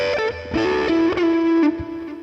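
Electric guitar played through a Hotone Ampero Mini multi-effects pedal with compressor and gain, sustained distorted notes ringing steadily with smooth, even level and no talking.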